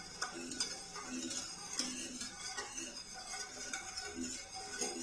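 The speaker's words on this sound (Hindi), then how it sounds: "अब इसे मुसलसल चम्मच चलाते हुए हम पकाएंगे" A spoon stirs Turkish delight mixture in a pot on the stove, steady scraping strokes with light metallic clinks against the pot, soft and close with no pause.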